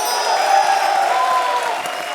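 A studio audience applauds during a televised Comedy Circus comedy show. The applause is steady and fairly loud for the full two seconds, with a faint tonal hum running underneath.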